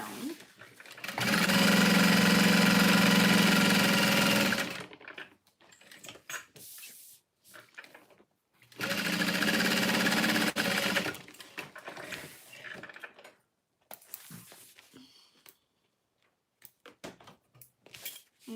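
A sewing machine stitches fabric in two sustained whirring runs of a few seconds each, separated by quieter handling noises and brief taps.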